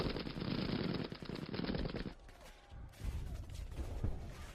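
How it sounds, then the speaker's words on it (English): Heavy machine gun fire rattles in rapid, dense bursts up close, breaks off for a moment, then resumes more loosely with scattered crackling shots. "all you can hear is, like, the heavy machine gun fire."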